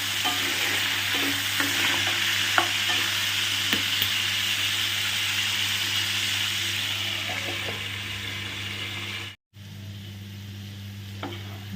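Salted potato pieces fry in a pan with a steady, loud sizzle and occasional stirring scrapes throughout, close by and without talk, cutting out briefly near the end.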